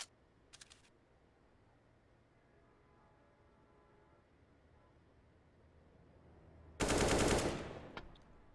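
A burst of gunfire in a Counter-Strike match on the Vertigo map, arriving as one loud, dense volley near the end after a low, quiet stretch of game ambience.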